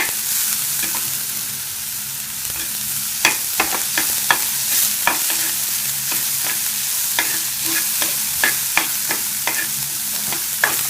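Green chilli and grated coconut sautéing in hot oil in a pan, a steady close sizzle with repeated sharp scrapes and taps of a spatula stirring throughout.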